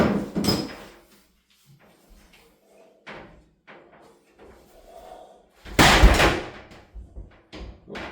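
A heavy used glass shower door is fitted onto its track, giving scattered knocks, scrapes and a loud sliding clatter near the end, with quiet pauses between bursts.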